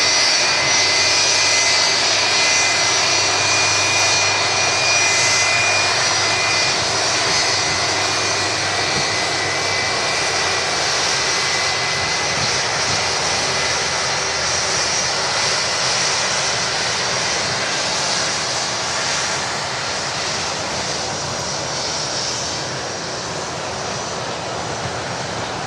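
A jet airliner with Rolls-Royce RB211 engines at Manchester Airport, just in from Ibiza, roars steadily with a broad, loud engine rush and high whine, sustained throughout and easing slightly toward the end.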